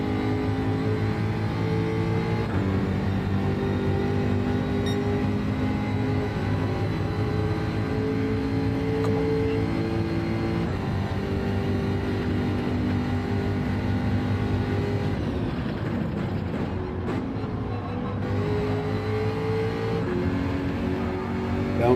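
A Toyota Supra race car engine in a racing video game drones loudly and steadily at high revs, its pitch rising and falling through gear changes and corners, with a brief dip near the end and no voices.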